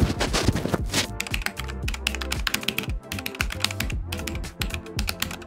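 Rapid, steady typing on a Logitech G512 Carbon mechanical keyboard, close and crisp, with dense clustered keystrokes and occasional louder clacks, no talking over it.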